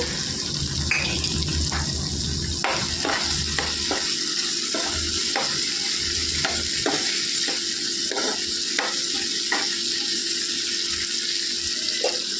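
Ridge gourd cooks with finely chopped green chillies in a pan for coconut chutney, giving a steady sizzle throughout with repeated scraping and clinking stirs of the spoon against the pan.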